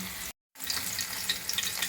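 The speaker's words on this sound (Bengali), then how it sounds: "শুধু আমি জাস্ট বেসন মাখিয়ে বেসনটাকে কোট করে আমি পনিরটা হালকা করে ভেজে নিচ্ছি" Gram-flour-coated paneer frying lightly in hot oil, a steady close sizzle with crackling pops, cut by a brief silent gap before the frying resumes.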